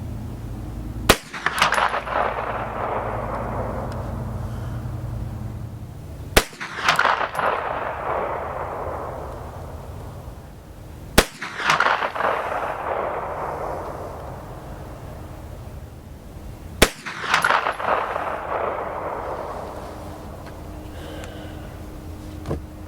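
Four loud, widely spaced gunshots from a Ruger PC Carbine at an outdoor range, each a sharp crack with a ringing tail as rounds strike steel targets, separated by a few seconds of steady background noise.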